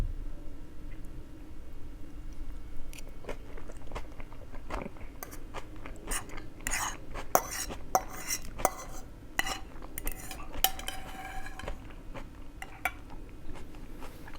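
Eating spaghetti with meat sauce: close, soft scrapes of cutlery against a bowl mixed with quiet chewing and small clinks, irregular and intimate, with no talking.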